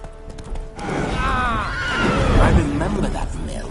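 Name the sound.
horse neighing, spooked, in The Witcher 3 video game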